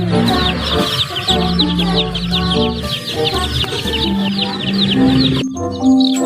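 Chickens and chicks cluck and chatter steadily over a busy background of bright, jingly music, with overlapping bird calls throughout, from a toy.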